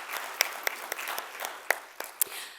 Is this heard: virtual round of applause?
yes